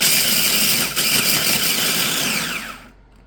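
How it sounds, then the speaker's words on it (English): A food processor grinds eggshells with a loud, harsh whirring grind that runs steadily for a few seconds, then winds down and stops abruptly, with no voices present. "Now I'm gonna get these in the food processor."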